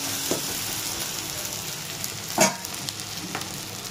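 Coriander powder and other ground spices fry in a pan, giving a continuous bright, hissing sizzle with a few soft stirring scrapes, one of them louder in the middle.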